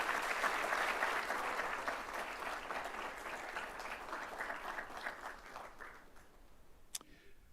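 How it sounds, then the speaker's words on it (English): An awards-ceremony audience in a large hall applauds scholarship students, a dense round of clapping that slowly thins and fades out, ending with a single sharp tap near the close. "And let's give them another round of applause."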